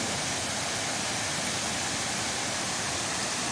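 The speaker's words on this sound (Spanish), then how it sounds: "Estamos en la quebrada Guarruz." Steady, dense rush of stream water flowing through the Quebrada Guarruz ravine, a continuous close broadband roar with no breaks or voices.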